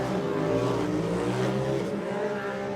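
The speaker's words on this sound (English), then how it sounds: "you can hear those turbos spooling too as they come by" Off-road side-by-side race cars roar past near the start-finish jump, a dense, continuous engine drone with turbos spooling as they come by.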